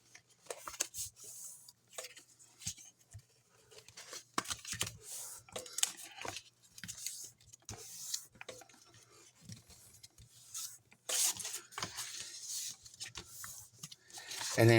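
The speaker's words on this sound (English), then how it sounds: "I'm now going to go ahead and burnish all these score marks. Just hand burnish them for now." Hand burnishing score marks on a paper gift box, a series of soft, quiet rubbing and scraping strokes in irregular bursts, close up with no talking.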